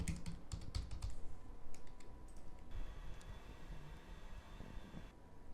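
Typing on a computer keyboard: a quick run of close, crisp keystrokes, then sparser taps over a steady background hum, no talking.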